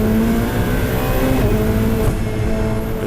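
Race cars, a Ferrari among them, fight for sixth place at the Ledenon circuit, their engines a loud, steady, continuous roar that holds throughout with no talking.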